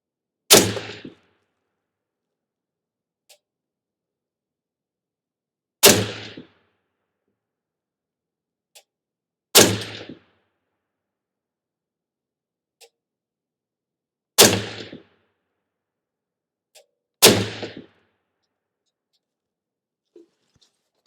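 Ruger SFAR .308 rifle firing Norma Whitetail ammunition, five sharp, loud single shots spaced a few seconds apart, each followed by a short decaying echo, with near silence between them.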